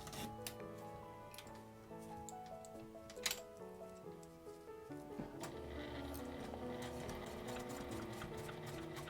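A sewing machine stitches a zipper onto a small round pouch, running quietly with a fast, even ticking rhythm under soft background music.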